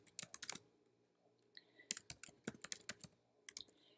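Fingers type on a computer keyboard in quick bursts of sharp clicks separated by short pauses, close and fairly quiet, with no voices.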